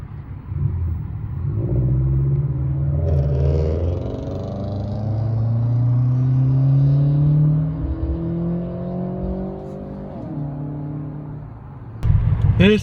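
A Scion FR-S with a catless exhaust rumbles loudly while driving on the road, heard from inside, its deep drone rising and falling through several accelerations and shifts, with a sharp burst near the end.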